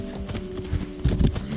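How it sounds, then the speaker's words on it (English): Horse hooves clip-clop in the Far Cry 6 video game, a run of quick, uneven thuds that grow heavier toward the end, close and fairly loud over a low background tone. "I heard you can ride horses in this game"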